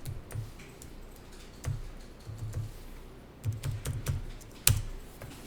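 Numbers are tapped out on a computer keyboard, with quiet, uneven clusters of soft key clicks and one sharper press near the end, and no talking.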